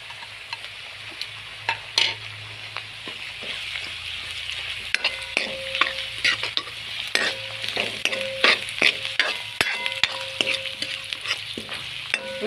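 Onions, chillies and capsicum frying in a pan for a dhaba-style paneer dish, with a steady sizzle under repeated scraping stirs and light metallic clinks of the spoon against the pan.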